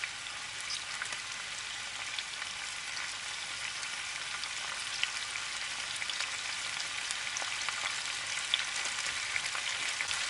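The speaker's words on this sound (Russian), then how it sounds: "Вот, обжариваем, чтобы лук был мягким." Onions sizzle steadily in a pan with paprika and turmeric, a continuous close frying hiss with faint crackles and occasional stirring, no voices.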